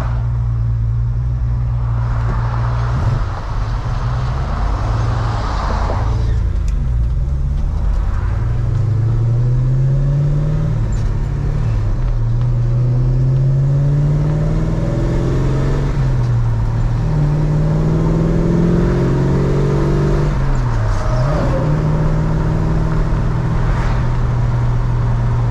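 A 1966 Chevrolet Chevelle SS drives on Ohio roads, its engine a steady, moderately loud rumble that rises and falls with gear changes and acceleration, heard from inside the car throughout.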